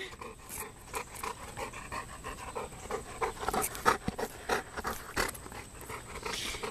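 A dog pants steadily nearby in quick rhythmic breaths, with a few faint rustles and small movements around it.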